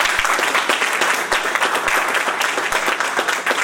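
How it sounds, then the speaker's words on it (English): An audience at a college Veterans Day event applauds, a loud, dense wash of clapping that carries steadily from start to finish. "Let's give them a round of applause."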